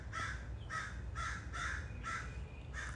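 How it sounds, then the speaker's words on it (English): A crow caws repeatedly outdoors, six evenly spaced harsh calls in a steady rhythm, moderately distant over a low background rumble. "Thanks for the commentary, Mr. Crow"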